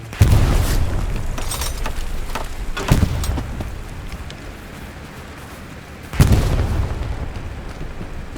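Artillery shells striking a strongpoint in the WWII shooter Hell Let Loose: three heavy, deep booms, the second softer, spaced a few seconds apart, each trailing off into rumbling decay.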